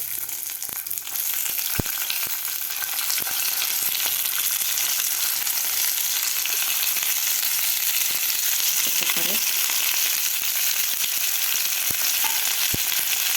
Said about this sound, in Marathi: जिरे व्यवस्थित आपले फुललेले आहेत आता यामध्ये आपल्याला मसाला भरलेले कारले घालायचे आहेत